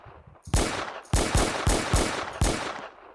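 A revolver fires in the Roblox Brookhaven game: five sharp, loud synthetic bangs in uneven succession, each trailing off quickly, with no talk.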